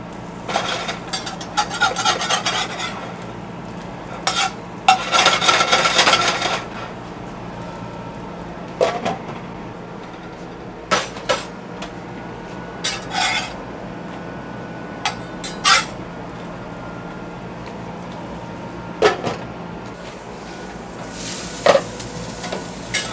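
Burger buns toast in a hot pan with a low steady sizzle, broken by intermittent scraping and rubbing noises and a longer rustling burst near the start.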